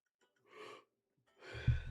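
A person yawns during a live futures day-trading session: two breathy, drawn-out exhalations, the second louder and ending in a low vocal rumble, close to the microphone with no talking.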